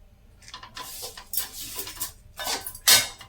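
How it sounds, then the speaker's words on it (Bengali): Sesame seeds are stirred in a pan off the flame for til laddu, a spoon scraping and clinking against the metal in close, uneven bursts, the last one loudest. "এবার ভালো করে আমি এটাকে ভালো করে মিশিয়ে দেবো তিলের সাথে"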